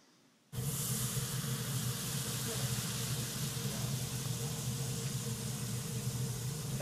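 Baking soda fizzing in a citric acid solution: a sudden onset of steady, loud hissing effervescence that continues evenly and densely without pause, heard close and alone.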